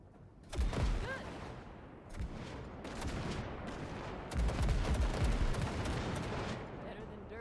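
Gunfire blasting wrecks in Cyberpunk 2077: bursts of shots come in bunches over steady game noise, with a speaking voice partly mixed in.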